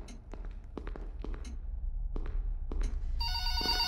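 Sharp taps and thuds sound intermittently in the video game Forgotten Memories before a loud electronic telephone ring cuts in at the very end.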